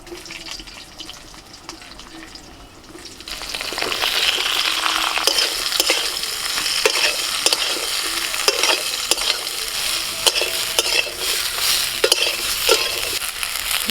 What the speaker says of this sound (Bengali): ফোড়নটা হয়ে গেলে এবার এই ঝিঙেগুলো দিয়ে দিচ্ছি